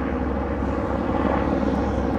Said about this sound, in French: L'hélicoptère qui part.